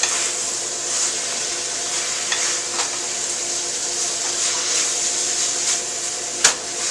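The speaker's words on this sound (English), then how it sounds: "Give that a stir." Wine-braised tenderloin sizzles steadily in a pan, a continuous close hiss broken by a few soft scrapes of stirring and one sharper knock near the end.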